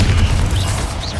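Bombarda spell blast in Hogwarts Legacy: a brief, loud, low boom rumbling close by, with a faint whooshing tail as it dies away.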